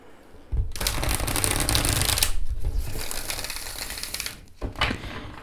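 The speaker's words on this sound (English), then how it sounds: "You can also riffle shuffle this deck, which is amazing." Two crisp riffle shuffles of an oracle card deck: a long rapid ripple of flicking cards, a pause, then a shorter burst.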